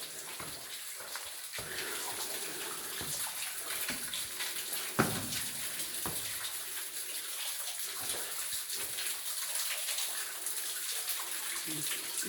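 Spring water runs inside Zedekiah's Cave, the ancient stone quarry beneath Jerusalem. It makes a steady, soft gushing trickle that continues unbroken throughout, with occasional faint splashes.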